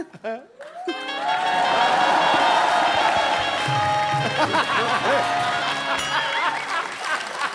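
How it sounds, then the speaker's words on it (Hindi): A studio audience at a comedy talk show bursts into applause, a broad wash of clapping and crowd noise that swells and then fades, with voices speaking over it. "तालियां बजाना"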